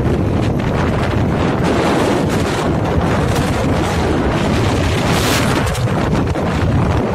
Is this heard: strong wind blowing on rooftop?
yes